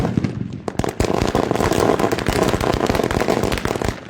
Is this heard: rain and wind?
no